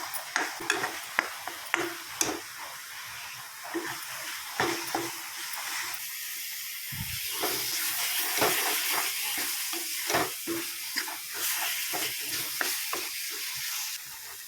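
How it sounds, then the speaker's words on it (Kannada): Turmeric masala frying in oil in a pan for an egg gravy, a continuous bright sizzle with repeated scraping stir strokes and ladle taps, close and fairly loud, no talking. "ಮಂಜಳದ ಪೌಡರ್ ಇನ್ನೊಂಚೂರು ಲಾಯ್ಕ ಫ್ರೈ ಆಗೋದು ಎಣ್ಣೆ ಬಿಡೋದು ಅದು ಮುಟ್ಟ ಫ್ರೈ ಆಗೋದು"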